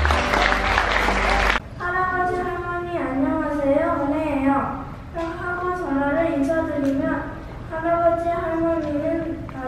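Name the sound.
audience applause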